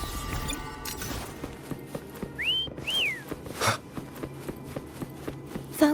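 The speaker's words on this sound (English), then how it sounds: "Why don't you call Foam over? Try whistling." Whistling to call a mount in the video game Wuthering Waves, two clear rising-and-falling whistle notes in quick succession over soft game ambience and light footstep-like taps.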